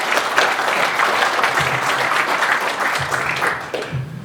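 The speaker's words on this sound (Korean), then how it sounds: "박수 한번 다시 보내주시기 바랍니다" Sustained audience applause at a Korean security seminar on the Hamas-Israel war, a dense steady wash of many hands clapping for about four seconds, tapering slightly at the end, with faint low murmurs underneath.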